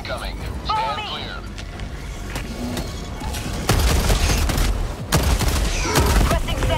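Orbital barrage strike in the video game Helldivers 2, heard as a dense, rumbling stretch of blasts and gunfire with several heavy booming impacts, loud and close, with bits of voice over it.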